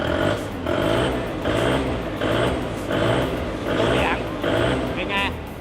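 A Heli 2.5-ton K2 Series forklift engine idles and revs in regular surges, loud and close, with someone talking over it.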